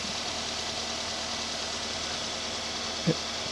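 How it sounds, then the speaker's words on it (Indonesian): A Daihatsu Terios engine idles cold above 1000 RPM, a steady low hum with broadband hiss close by, broken once near the end by a brief knock or click. "Ya, ini keadaan mesin menyala. Ini masih dingin ya. Jadi RPM masih di atas 1000."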